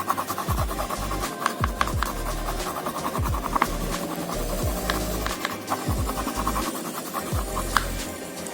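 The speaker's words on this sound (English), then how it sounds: "Then you have to take sky blue color and near the white you have to rub it." Oil pastel crayon rubbed back and forth on paper while colouring a sky in blue, a close repeated scratchy rasp in quick strokes, with no talk.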